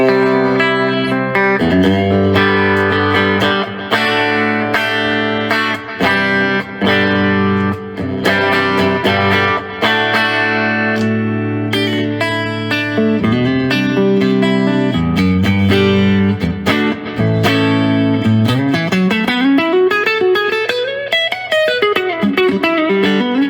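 Electric guitar played through a combo amp and a Dark Sun reverb and delay pedal, sustained chords ringing with trailing echoes, loud and continuous, ending in a rising sweep.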